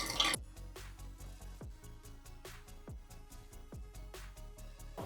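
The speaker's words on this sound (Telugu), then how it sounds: "ఇప్పుడు దీంట్లో వాటర్ పోస్తున్నా." Water poured into a 2-litre plastic bottle makes a close, steady run of gurgling, dripping glugs that repeat in quick succession with no voices over it.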